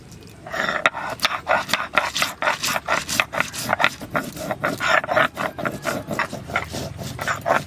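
Coriander and cumin are ground into a paste by hand, the steady back-and-forth rasping strokes repeating about twice a second, close and fairly loud, with no talking.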